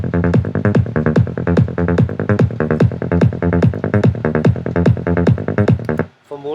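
Psytrance in Ableton Live, with a punchy kick and a rolling bass ducked by sidechain compression, gives a loud, driving, evenly pulsing pattern. It runs for about six seconds, then cuts off.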